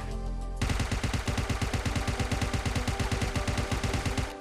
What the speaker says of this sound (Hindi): उसे मैंने तीन हेडशॉट दिए यूएमपी के और वो नॉक हो गया